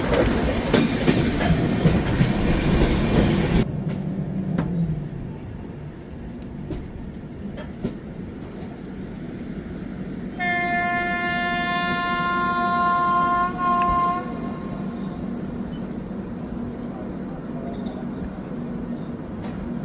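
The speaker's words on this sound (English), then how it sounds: "Himasagar Express trundles to the next Telugu-speaking state, Andhra Pradesh." Himasagar Express passenger train running on rails toward Vijayawada in Andhra Pradesh, India, a steady rumble and rattle of wheels with a loud close burst at the start and a sustained horn midway.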